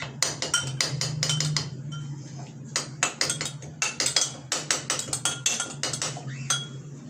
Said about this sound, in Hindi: अब इनको मैं थोड़ा सा क्रश कर लूँगा चम्मच की मदद से ही।